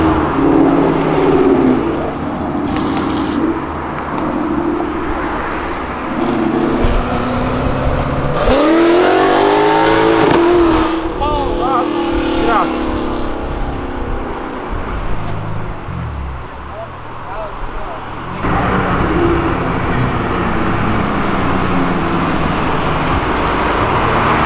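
Cars downshifting and revving on Avenida Europa, a busy city avenue, with engines roaring and passing at close range over continuous traffic noise while people talk nearby.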